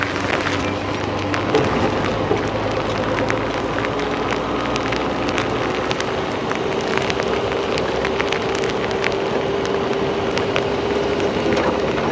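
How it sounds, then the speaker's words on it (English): Steady rain falls during an early-morning safari drive, a dense, continuous patter of drops striking nearby surfaces, close and even, with no voices. "we do need the rain."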